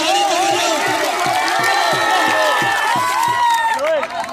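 Crowd at an Eid wrestling show in Rahim Yar Khan clapping and cheering loudly throughout, with a rhythmic beat and a voice talking over the noise.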